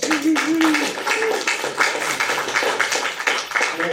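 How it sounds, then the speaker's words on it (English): Audience at an investor happy hour panel claps for the panelists, a steady round of applause with a voice briefly audible at the start. "please give our panelists a big round of applause"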